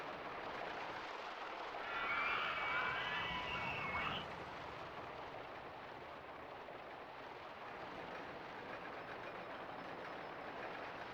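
Roller coaster train rolling along its track in Rollercoaster Tycoon Classic, a steady rumbling run with a brief louder clattering, screechy stretch early on, then continuing evenly under ambient park noise.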